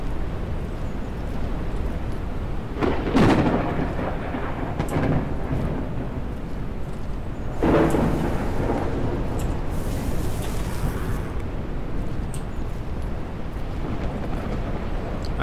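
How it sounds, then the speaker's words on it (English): Steady rain pours throughout a thunderstorm in the Jaws of Extinction video game, with two loud thunder cracks rolling in around three and eight seconds and a softer rumble later, no talking. "Wow, there's thunder and lightning."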